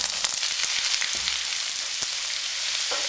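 Noodles fry in sesame oil in a hot pan while being reheated, a steady crackling sizzle with scattered pops and stirring clatter, close and continuous with no talk.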